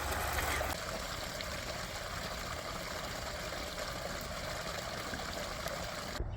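A garden water fountain trickles and splashes in a steady, even flow, close by and continuous from start to end. No voices are heard.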